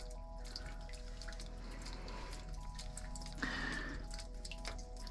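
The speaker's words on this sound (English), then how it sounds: "Hear the dripping of the limestone, the water coming out?" Water drips from limestone inside a cave along the Black River, a soft, irregular patter of drops against steady background hiss, with one brief brighter splash partway through; no one talks.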